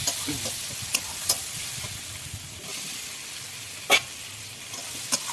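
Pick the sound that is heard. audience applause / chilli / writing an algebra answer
chilli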